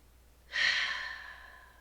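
A single slow breath drawn in through the nose during a yoga class, one soft, steady airy rush heard close up in a quiet room, fading gradually, with no talking.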